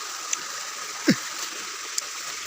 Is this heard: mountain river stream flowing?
yes